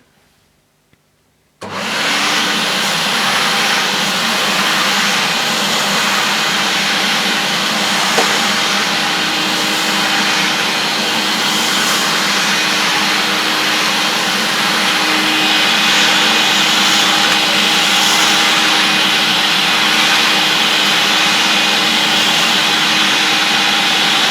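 A vintage Hoover S4002 Freedom vacuum cleaner starts with a click and then runs at a steady, loud motor whine and airflow roar that holds unchanged for over twenty seconds, with no talk.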